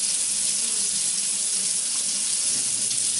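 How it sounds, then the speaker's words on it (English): Water runs steadily from a Delta Junction matte black pull-down kitchen faucet into a sink, a continuous close hiss with no talking. "The water flow looks good"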